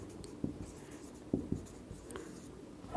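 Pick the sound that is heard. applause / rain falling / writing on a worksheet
writing on a worksheet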